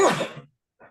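A single sharp sneeze bursts out loud and close during a late-night live online chat, trailing off over about half a second, followed by a brief faint sound after a pause.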